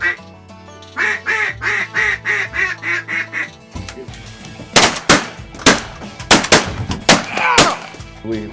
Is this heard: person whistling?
no